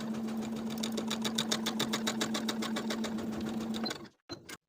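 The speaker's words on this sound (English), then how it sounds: "We're going to top stitch from the top of the side panel to the bottom of the side panel." A sewing machine top-stitches a seam on the side panel of colorblock women's pants, running as a steady rapid whirring stitch rhythm for about four seconds before stopping, followed by a brief short burst, with no talk.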